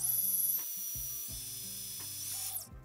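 An electric hand mixer whirs steadily as it blends an egg into double chocolate mint cookie dough. The close, continuous motor drone carries a faint rattle for about two and a half seconds, then cuts off.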